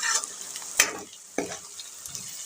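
Masala fries in a pan with a steady sizzle, and a spoon scrapes through it in a few distinct stirring strokes, loud and close.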